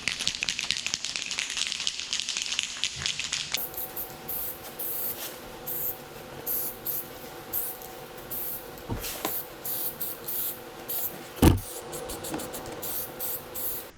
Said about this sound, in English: I'm going to take a spray can of etch prime, cover this up, protect the bare metal